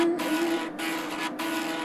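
Floppy disk drive reading a disk, with three chunky rasping bursts of mechanical grinding separated by short pauses over a steady low whine.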